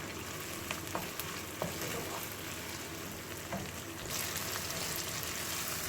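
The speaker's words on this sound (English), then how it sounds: "Give it a good, keep stirring, give it a good stir, so they're well mixed in oil" Tomatoes frying in oil for a mixed vegetable curry, with a steady sizzle and soft scraping as the pan is stirred, growing a little louder toward the end.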